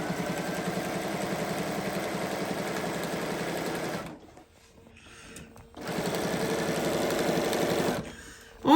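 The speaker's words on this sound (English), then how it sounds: "I'm just going to stitch it kind of slow all the way around." A sewing machine stitches a mermaid tail at a slow, steady pace, its motor running in a continuous even whir that stops for a couple of seconds midway and then resumes.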